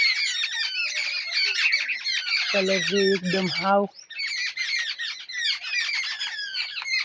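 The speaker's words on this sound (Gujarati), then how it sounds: "ચકલી પણ ઉપર બોલે છે" A sparrow calls from above in a neem tree with dense, rapid chirps that run almost continuously. A person speaks briefly in the middle of the calls.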